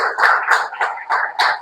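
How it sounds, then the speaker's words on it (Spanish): A church congregation claps in a few quick, irregular bursts for about a second and a half, fairly close and without anyone talking over it. "Denle un aplauso al Señor."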